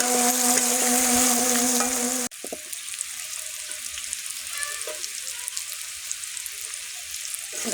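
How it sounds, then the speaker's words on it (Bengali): Potato and bitter gourd pieces fry in plenty of oil in a pan, giving a steady, close sizzle that follows a brief tonal mechanical hum at the start. "আমি আলু করলা আগে ভালো করে ভেজে নেব।"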